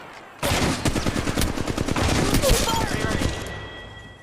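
Rapid automatic gunfire from a match of Apex Legends Mobile rattles loudly and steadily for about three seconds after a quiet start, then fades into a softer tail.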